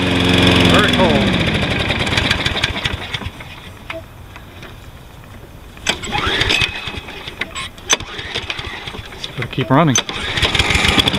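A Toro 22 inch Recycler Personal Pace lawn mower, model 20332, cold after two months unused, cranks and catches, then its small engine runs with an uneven chugging idle while someone speaks briefly.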